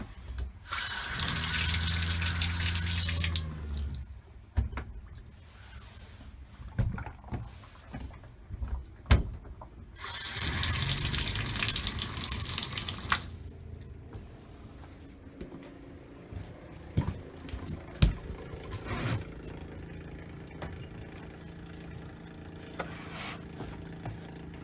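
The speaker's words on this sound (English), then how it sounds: "So you can hear the pump running and you're not getting any antifreeze." An RV water pump runs while a faucet flows during winterizing with antifreeze, with two strong bursts of gushing water separated by quieter stretches of pump hum, clicks and handling knocks.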